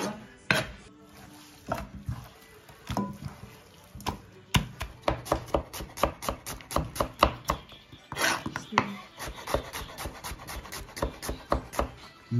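Lamb meat for kuyrdak is chopped on a board with a knife in sharp, close strikes, some isolated and some in quick runs, with faint clinks of utensils between them.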